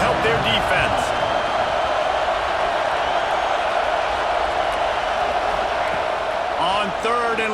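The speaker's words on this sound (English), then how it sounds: "Listen to this crowd just shaking the girders of this place, trying to help their defense." A packed stadium crowd roars continuously at an American football game as the defense is on the field, a dense sustained wall of noise with a commentator talking over it.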